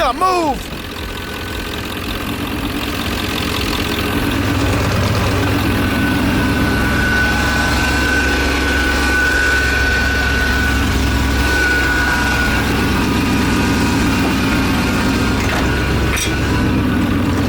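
A 1989 Ford Bronco engine, leaking fuel, idles roughly with a loud, low, uneven rumble that holds steady and close for the whole stretch, with a brief knock near the end and no voices.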